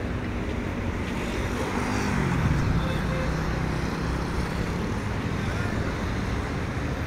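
Steady road traffic rumbles along a busy street in Morocco, a continuous dense wash of engine noise with passing vehicles close by and a voice talking faintly over it.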